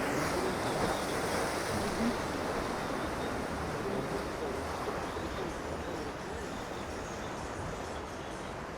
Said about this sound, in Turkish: Ayrıca da şiddetli dalgalar kayaları dövüyor.